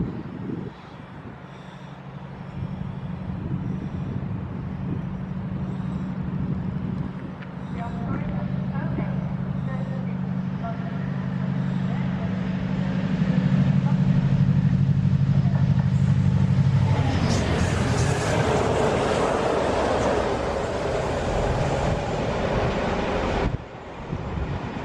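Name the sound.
train passing at Ealing Broadway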